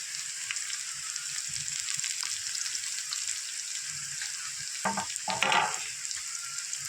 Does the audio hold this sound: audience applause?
no